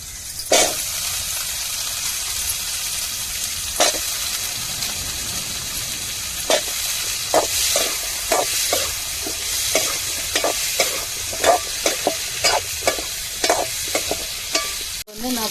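Spices and drumsticks stirred and fried in hot oil for a fish curry, a steady sizzle with a string of sharp spoon clatters against the pan, no voices.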